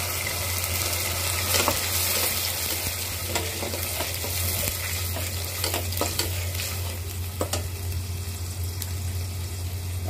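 Ginger, garlic, onion and cumin paste added to browned onions in a pan for beef tongue curry, frying with a steady loud sizzle, irregular spatula scrapes and a low constant hum beneath.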